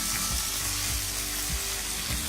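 Okra is stirred in a hot frying pan for a spicy mustard masala, giving a constant sizzle with soft, regular scraping strokes underneath.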